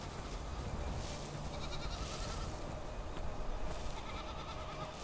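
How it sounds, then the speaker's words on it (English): Goats bleat in a survival video game, a wild island region in Survival: Fountain of Youth, heard as a dense, steady bed of bleating and rustling ambience at low level. "Bunch of goats out here."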